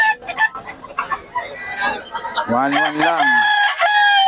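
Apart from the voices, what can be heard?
chickens clucking and crowing at a market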